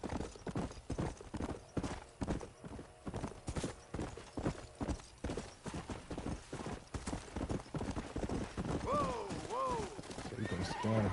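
Horse hooves clip-clop at a steady gallop in Red Dead Redemption, loud and rhythmic, ending in a couple of close, high whinnies over the hoofbeats.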